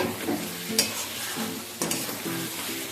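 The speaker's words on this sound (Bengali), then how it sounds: "মাংস কষতে কষতে খুব সুন্দরভাবে তেল ছেড়ে এসছে।" Chicken cooks down in oil and spices in a pan, giving a dense sizzle. A spatula stirs and scrapes it in several distinct strokes, close by and without speech.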